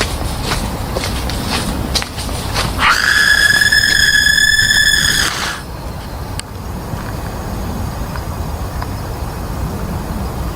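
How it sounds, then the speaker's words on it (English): A blood-curdling scream rings out on a forest path during a hike: a single shrill, sustained shriek of a couple of seconds that rises suddenly over rustling outdoor background noise and then cuts off. "a blood-curdling scream rips through the air"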